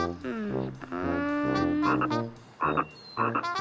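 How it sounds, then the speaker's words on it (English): A cartoon common tree frog croaks in a run of loud, rubbery, pitched calls, several sustained croaks followed by short choppy bursts, heard up close with no talking over it. "It's a common tree frog."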